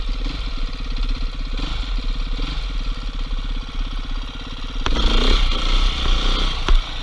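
A dirt bike engine runs close by during wheelie practice, a steady throbbing idle-like drone that rises into a louder rev partway through, with a sharp clack near the end.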